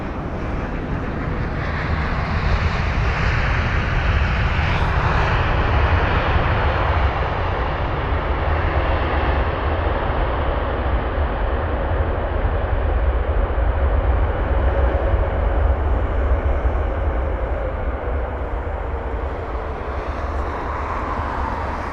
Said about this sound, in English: so that was the WestJet 7879 Dreamliner from Calgary